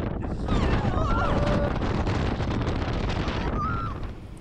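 Storm Arwen gale gusts buffeting the microphone on the Shetland islands, a loud, continuous roaring rush with harsh bursts and faint tonal whistles, no other sounds.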